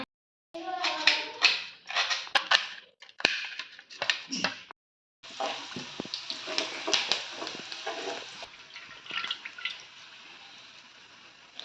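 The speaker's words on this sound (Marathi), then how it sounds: "कोमचे पिळून घ्यायचे असतात जेणेकरून कोमच्यातला पाणी सगळं सगळा खाली गळता" Komche wild greens squeezed by hand, with wet squelching and water dripping down in short uneven bursts separated by pauses, close and fairly quiet.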